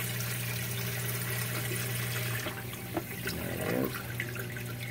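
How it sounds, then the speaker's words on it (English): Water flowing into a 90 gallon reef aquarium, a steady rushing wash with a low pump hum beneath and a brief bubbling gurgle near the end. "Now it's shooting in some"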